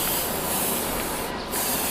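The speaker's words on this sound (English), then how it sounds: "But you want to spray it on the whole bar." Lubricant sprayed along a trailer bar, a continuous close aerosol hiss with a brief dip before resuming.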